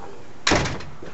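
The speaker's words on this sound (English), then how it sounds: "it's not a bad closing speed, and it latches" An adjusted storm door swings shut on its closer and latches with a single sharp, close clack, followed by a short fading rattle.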